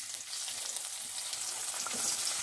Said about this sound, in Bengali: এবার তেলটা গরম হলে আমি দিয়ে দেব কুচানো পেঁয়াজ।